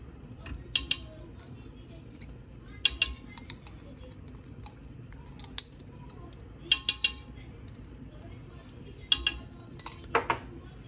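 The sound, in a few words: stirring tarhana mixture with crushed garlic in a bowl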